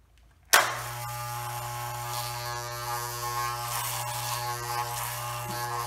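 Electric beard trimmer with a number 1 (3 mm) guard running steadily close by, a constant buzzing whir with slight variations as it taper-trims a medium/short beard high on the side of the head.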